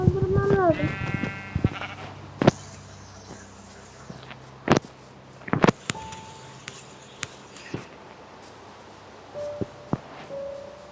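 A short Minecraft sheep bleat at the start, followed by scattered clicks, thumps and synthetic tones in a game-like soundscape, with brief speech.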